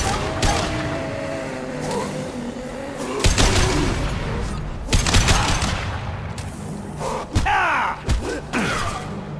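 Tanks blowing up during a firefight in Mass Effect 2, with several loud, sharp blasts and booming impacts spread across the clip over a steady bed of gunfire and battle noise.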